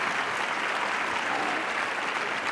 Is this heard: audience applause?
yes